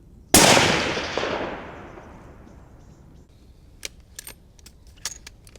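A rifle shot fired at a small muntjac doe: one sharp, loud crack with a long rolling echo that fades over a couple of seconds, followed by a few faint clicks and rustles.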